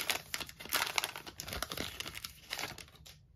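A Buster Posey blue sparkle baseball card from 2022 Topps Heritage is slid into a plastic sleeve, giving a close, busy crinkling and rustling of thin plastic with irregular bursts that fade near the end.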